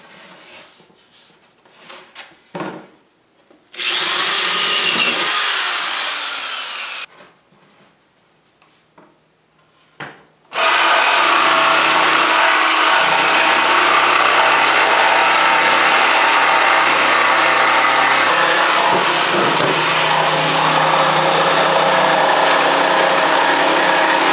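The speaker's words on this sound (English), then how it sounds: "Drilled a couple of access holes for the jigsaw" A power drill bores access holes through wood for a jigsaw, with two loud sustained bursts: a short one of about three seconds, then a long steady whine after a quiet gap with faint handling sounds.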